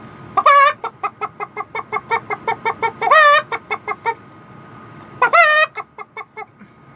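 A voice imitates a hen cackling after laying an egg: a steady run of short, loud, close clucks broken by three longer squawking cries.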